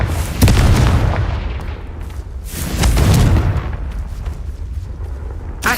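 Confringo blasting spells in Hogwarts Legacy explode as loud, close booms, two heavy blasts with rumbling debris and crackle trailing after each.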